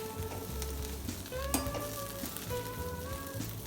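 Bread frying in butter in a pan on the stove, a faint continuous sizzle with soft crackles and a few light clinks, heard alone without talk.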